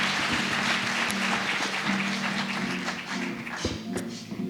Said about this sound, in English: a huge round of applause for our panelists